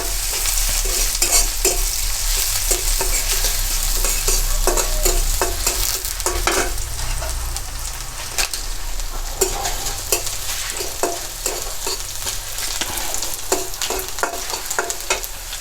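Baghar of spices sizzles steadily in hot oil in a pan for a bottle gourd and prawn curry, with a spoon scraping and stirring in irregular close knocks throughout; no voices.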